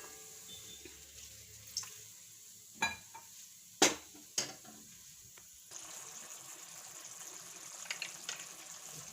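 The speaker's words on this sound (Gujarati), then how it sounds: "હવે આપણે એમાં પાણી નાખશું." Water goes into a simmering cashew-and-pea curry gravy with a few faint clatters and clicks, then a soft, continuous bubbling hiss takes over; quiet overall with no voices.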